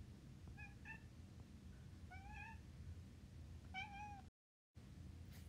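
A cat meows three times at intervals, faint and somewhat distant, over a low background hum.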